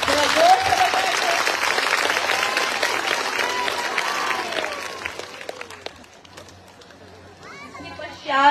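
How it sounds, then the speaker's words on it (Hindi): Sustained audience applause at a women's assembly gathering at Sadguru Kabir Ashram in Gujarkhedi, Nagpur; dense clapping holds steady for about five seconds, then thins into scattered claps and faint background chatter. "देखिए ताली बजाने में कंजूसी मत करिए, थोड़ा जोर से बजाइए।"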